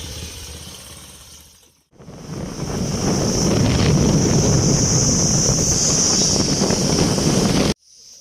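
Loud, steady wind roar buffets the microphone while riding on a motorbike, rising abruptly after a quieter opening and holding strong until cutting off just before the end, with no talking.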